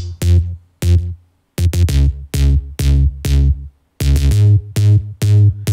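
Punchy melodic synth-bass stabs for a song's pre-chorus, played as short loud hits in a syncopated rhythm with brief gaps between them, alone with no voices.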